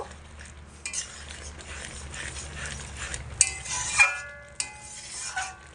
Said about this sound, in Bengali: এবার চিনি আর গরম মশলা দিয়ে খুব ভালো করে আলতোভাবে একটু নাড়াচাড়া করে দেব